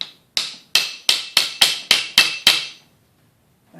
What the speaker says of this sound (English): I'm just going to give it a little tap here.